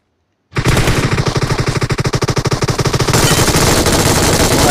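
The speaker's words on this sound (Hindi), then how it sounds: "अब MG3 से मैं अलग सा डैमेज देता हूँ" An MG3 machine gun in PUBG fires sustained automatic bursts, loud and close, a rapid steady rattle of shots that grows denser and heavier toward the end, with no talking.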